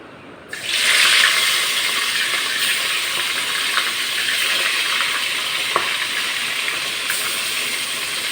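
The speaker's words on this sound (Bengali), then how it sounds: "এই যে দেখেন তেল গরম হয়ে গেছে, আমি এখন এই মাছটা দিয়ে দেবো ওর ভিতরে।" A large snakehead fish dropped into hot oil sets off a sudden loud, steady sizzle that holds for the rest of the clip with small crackles and pops, close up and with no talking.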